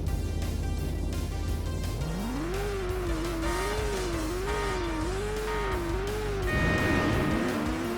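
Race car engine in the Drift Spirits racing game revving hard at a rocket-start launch, its pitch sweeping up and wavering through quick gear shifts, loud and steady under game music with no voices.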